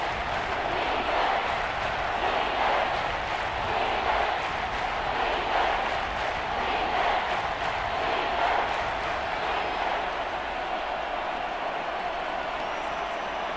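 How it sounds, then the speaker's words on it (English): A stadium crowd in Madden NFL 24 roars steadily at a Titans versus Saints game, as a broad, loud wash of noise that stays even from start to finish. "this crowd trying to force a false start here"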